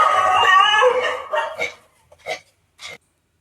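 A dog barks a few separate times, sharp and fairly close, after a short stretch of louder whining or voiced noise, then falls silent.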